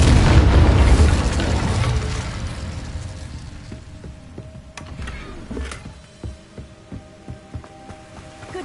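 A fire spell cast in Hogwarts Legacy bursts with a loud, deep boom at the start, then fades into a crackling rumble with small scattered pops and ringing tones.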